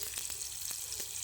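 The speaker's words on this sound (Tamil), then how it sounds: "ஆன் தி ஸ்பாட்டில் வறுத்து சாப்பிட்றீங்க பார்த்தீங்களா?" Fish frying in oil in a pan beside a river, a steady crackling sizzle with small sharp pops scattered through, fairly close and alone without talk.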